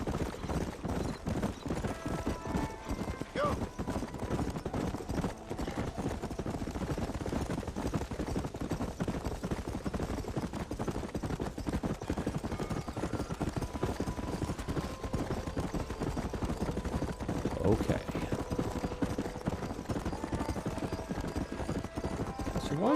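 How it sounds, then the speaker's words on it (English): Horse hooves gallop in steady, rapid clip-clop throughout the Red Dead Redemption video game scene, loud and continuous, with occasional faint whinnies and game sounds behind. "we'll test our horse out"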